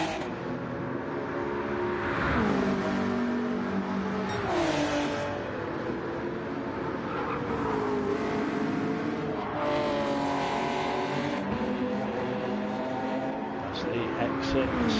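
Race cars in the Nippon GR2 Super Cup accelerate past with loud, rising and falling engine whines, one overlapping another. The roar is continuous and close, and a commentator talks over it.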